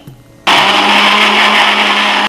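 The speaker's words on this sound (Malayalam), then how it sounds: "ഇത് നമ്മൾ മിക്സിയിലിട്ട് നന്നായിട്ട് ബ്ലെൻഡ് ചെയ്തെടുക്കണം" Mixer grinder blending cooked tomato, onion, garlic and capsicum with stock for a pizza red sauce, switching on abruptly to a loud, steady whirring roar that holds evenly, then cuts off.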